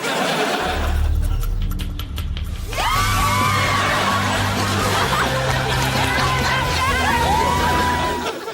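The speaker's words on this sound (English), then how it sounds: "Scream for the sake of screaming." Loud rumbling noise, then a group of people shrieking and squealing with high rising voices, overlapping and sustained, amid laughter and commotion.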